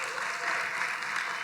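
A church audience applauds a fellow member, a brief, even burst of many hands clapping with no voice over it.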